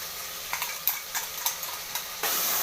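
Ground masala mixture for chicken biryani fries in a pan, with a few soft stirring scrapes before a sudden, steady sizzle swells up near the end.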